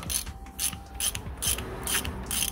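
Ratchet fitted with a 16mm socket undoing the nut on a VW Polo rear shock absorber clamped in a vise, about six sharp rapid clicking bursts in a regular back-and-forth rhythm, loud and close.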